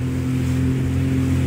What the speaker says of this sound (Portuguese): Jet ski chega a empinar.